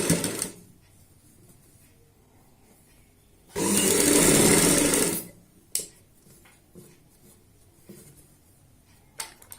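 Sewing machine stitching invisible underground piping onto a garment neckline: one continuous run of the motor lasting about a second and a half, set between quiet fabric handling and small taps.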